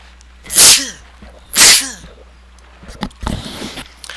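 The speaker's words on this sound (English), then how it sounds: "Gonna sneeze." Two sharp, loud sneezes about a second apart, followed by a softer third burst and some quiet breathy noises.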